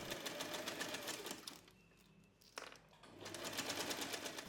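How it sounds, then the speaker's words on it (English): Close, steady whirring of a sewing machine top-stitching a cloth tote bag and its handles, a fast even needle rhythm that briefly slows and pauses before running on again. "As we top stitch this, we are also sewing over the handles,"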